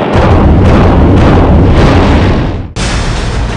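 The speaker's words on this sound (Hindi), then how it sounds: "भारतीय सैनिकों द्वारा पाकिस्तानी चौकियों पर तोपों से एक के बाद एक 11 धमाके" Artillery shells strike Pakistani army posts in news footage: a loud, roaring, sustained blast rumbles for a few seconds, then cuts sharply into another booming burst.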